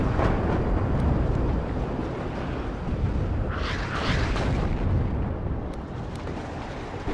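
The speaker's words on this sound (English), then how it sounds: "That artillery, though, look at that." Artillery fire rumbles through a WARNO battle in a constant, dense wash of distant explosions, with a brighter burst standing out partway through.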